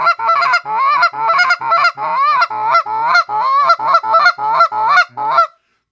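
A Big Kahuna goose call with gray guts, blown by a caller: a quick, rhythmic series of loud, close, nasal honks, about a dozen sharp clucking notes in a row, played alone.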